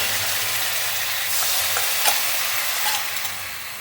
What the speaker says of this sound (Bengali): মাখনটা গলে গেছে, এবার এতে দেবো 2 চামচ আদা রসুন পেস্ট